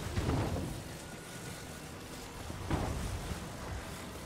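Rain and thunder in the video game The Legend of Zelda: Tears of the Kingdom, a steady rainfall hiss with low rumbling thunder swelling near the start and again about two-thirds through, with no talking.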